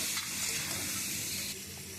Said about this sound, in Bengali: এবারে বাবা একটু আলুটা হালকা করে ভেজে নেবে।